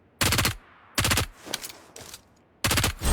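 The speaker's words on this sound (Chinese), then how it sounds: "信号枪直接当烟花放。" Flare gun shots fired like fireworks in the video game Peace Elite: several sharp, loud bursts in an uneven rhythm, with two softer pops between them and no talk.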